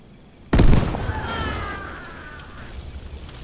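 A frag grenade going off in the video game ARMA 3 S.O.G., one sharp, loud blast after a quiet lead-in, followed by a long rumbling tail that slowly fades.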